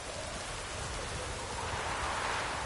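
Steady rain hisses evenly in The Witcher 3 on PS4, a constant wash of falling water with no distinct drops or voices.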